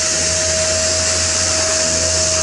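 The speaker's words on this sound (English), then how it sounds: "it runs down here to a vacuum cleaner, bought from Aldi, and that takes all the dust away" An Aldi vacuum cleaner pulls dust from a random orbital sander fitted with 40-grit paper while anti-fouling is sanded back, a loud steady whining drone with a constant high tone and no talk.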